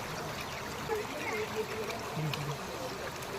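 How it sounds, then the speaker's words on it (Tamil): Water rushes and trickles steadily down nearby at Wadi Al Dafta near Dubai, a continuous splashing flow filling the whole stretch with a faint tone or two beneath it. "இந்த ஹாட்டான சம்மர்லியா குடுகுடுன்னு கீழ தண்ணி ஊத்து பாருங்க"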